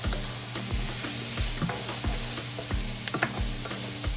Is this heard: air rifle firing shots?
no